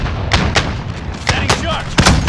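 Sharp gunshots ring out in a Call of Duty match, five or six separate bangs spaced unevenly over a couple of seconds, loud and close above a busy rumbling battlefield background.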